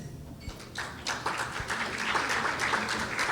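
Applause at a women's awards ceremony starts with a few scattered claps and quickly swells into steady clapping from the audience.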